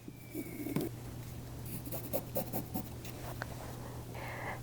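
A pen or marker traces a circle on the back of a piece of fabric, giving faint, irregular scratchy strokes over a steady low hum, with a brief rustle of cloth.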